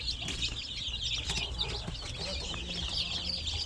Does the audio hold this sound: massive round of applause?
no